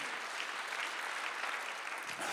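A church congregation applauds during a Sunday service, a dense, even burst of many hands clapping that carries at steady strength throughout, with no voices standing out.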